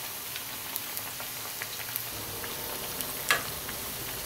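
Banana flower vadai deep-frying in hot oil, a steady close crackling sizzle with scattered pops and one louder clatter near the end.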